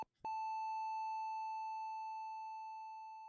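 A person imitates a beeping noise with a single sustained electronic-sounding tone, starting abruptly after a brief click and holding steady for over three seconds while slowly fading, alone and clear.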